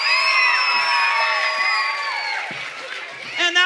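A children's audience cheers and shouts in a bright, high-pitched crowd roar, with applause mixed in that fades after a few seconds, then a brief burst of voices near the end.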